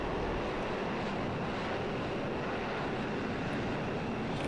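A steady, loud airplane engine roar drones without a break as a simulated aircraft climbs out after takeoff in a flight simulator game, with no one talking.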